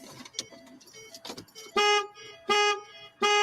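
A parked car keeps beeping during a police stop. After a stretch of muffled voices and rustling, three loud, evenly spaced electronic beeps follow one another.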